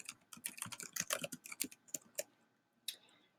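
Rapid clicking keystrokes on a computer keyboard while entering a chemistry fraction, a quick burst of close taps, a short pause, then one final keystroke, no talking.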